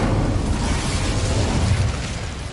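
In Hogwarts Legacy, an Incendio fire spell erupts in a loud, sustained whooshing blast of flame with a low rumble that holds steady for a couple of seconds, and no one speaks.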